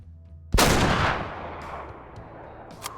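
A single loud hunting rifle shot in the Way of the Hunter video game, sharp and close, with a long rolling echo fading across the open landscape, then quiet.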